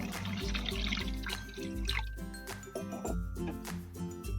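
Beet water being poured into a pan of Bengali beetroot dhokar dalna curry, a close, splashy trickle with drips and bubbling, without talk.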